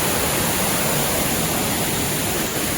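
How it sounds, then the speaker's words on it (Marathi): A loud, constant rush of water pouring down the Machi waterfall, dense and unbroken with no pauses. "मस्त पाणी वाहतं इकडे"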